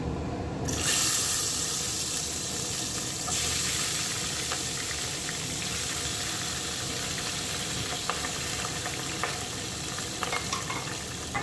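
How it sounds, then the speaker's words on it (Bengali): Pabda fish going into hot oil in a wok: a sharp burst of loud sizzling starts after a short pause, then keeps up a dense, steady crackle with a few scattered pops. "কড়াইয়ের মধ্যে তেল দিয়ে দিচ্ছি মাছ ভাজার জন্য।"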